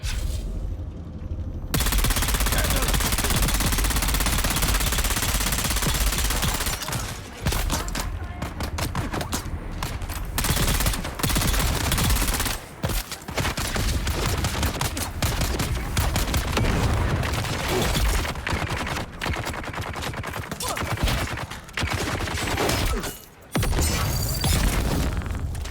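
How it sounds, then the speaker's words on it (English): Dense, sustained gunfire and booming explosions in the video game Dune: Awakening during a fight at a scavenger outpost, loud and continuous with brief gaps, with bursts of rapid shots and occasional voices mixed in. "A lot of explosions everywhere."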